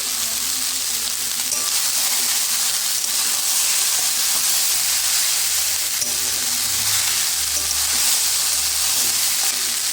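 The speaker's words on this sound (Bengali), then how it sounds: "দিয়ে দিলাম এবার নাড়ছি দেখো" Leftover biryani reheating in a wok is stirred with steady scraping over a continuous close sizzle and hiss of frying, with no talk.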